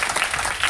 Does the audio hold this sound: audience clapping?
yes